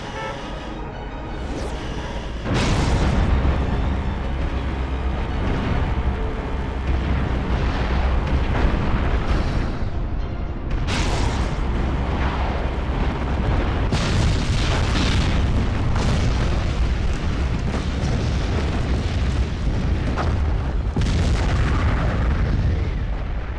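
Nero's Palazzo blowing apart in Destroy All Humans! Path of the Furon, one long, loud, rolling stretch of heavy explosions and crashing rubble with repeated booming bursts and no voices.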